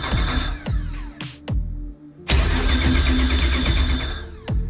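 A car's rear engine cranks in several short bursts, cuts out, then catches on priming fuel and runs, a loud close mechanical roar that holds steady before another crank-like burst near the end, with no talk.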